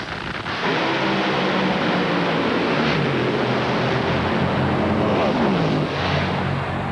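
Top fuel dragsters race at an NHRA national event, a thunderous broadband roar rising abruptly and holding at full intensity, heard from a distance as an overhead helicopter camera follows.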